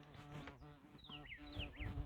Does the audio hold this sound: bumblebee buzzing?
yes